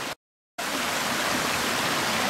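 A creek rushes in a steady, loud wash of flowing water while someone crosses it outdoors in the cold, broken only by a brief silent gap near the start.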